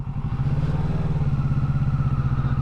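Motorcycle engine idling and pulsing at low speed through a slow, wide U-turn around cones, a close, steady rhythmic chug with no talk.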